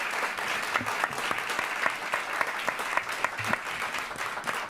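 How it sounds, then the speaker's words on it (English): An audience at a panel event on computing education in New York City schools applauds its panelists, with steady, moderately distant clapping from a room of people and a few sharper individual claps standing out. "join me in a round of applause for our amazing panelists"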